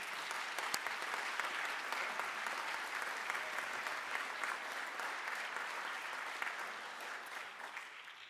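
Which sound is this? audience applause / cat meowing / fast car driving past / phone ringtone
audience applause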